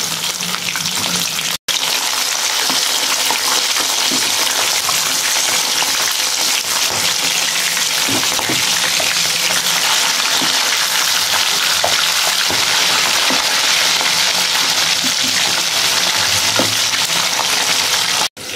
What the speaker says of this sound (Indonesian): Ya kita mau goreng ayamnya ya teman-teman.